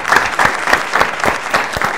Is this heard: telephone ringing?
no